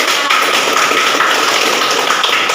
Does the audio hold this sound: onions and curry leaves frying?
no